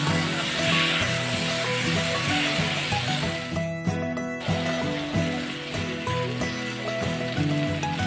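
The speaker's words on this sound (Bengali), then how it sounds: "আর দিয়ে দেব ভেজে রাখা লিভার আর স্টমাক, দিয়ে সবকিছু আমি ভালো করে মিশিয়ে নেব।" Fried chicken liver and stomach are mixed into curry in a pan, a close, steady sizzle with rattling, scraping stirring strokes throughout and a brief pause in the middle.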